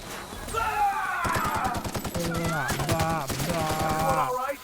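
Rapid bursts of gunfire as bugs are shot in a video game, close and loud, with tonal game music running alongside the shots.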